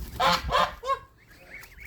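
Geese chasing goslings in a farmyard honk nearby in a quick burst of several loud nasal calls, followed by softer chattering cries.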